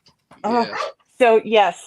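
A dog barks behind a closed door in short, agitated bursts, mixed with a person talking nearby.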